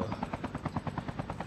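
Helicopter in the Call of Duty Mobile battle royale map, its rotor thumping in a fast, steady rhythm, loud and close throughout, with no talk over it.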